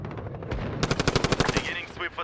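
A rapid burst of automatic gunfire rattles in a video game, roughly a dozen loud evenly spaced shots. Talk and game sounds come before and after the burst.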